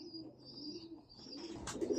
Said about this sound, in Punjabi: ਖਸੂਸੀ ਗੌਰ ਕਰਨ ਵਾਲਾ ਕਬੂਤਰ ਆ